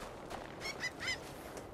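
A bird in the God of War video game gives three short, faint nasal honks close together, like a goose, over a quiet background hum.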